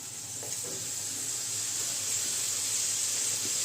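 Water poured into a hot pan of spices for a hilsa fish and gathi kochu curry, a soft steady hiss and sizzle with faint bubbling, quiet and constant throughout, with no talking.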